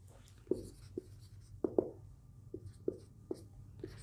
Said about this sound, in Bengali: আমি যদি পাশে একটু চিত্রটা অঙ্কন করে দেই তাহলে সুবিধা হবে